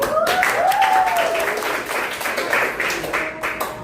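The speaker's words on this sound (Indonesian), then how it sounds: "Oke, tepuk tangan buat." A classroom of students applauds during a sociology teaching-practice lesson, a dense burst of clapping lasting a few seconds with faint voices and whoops mixed in.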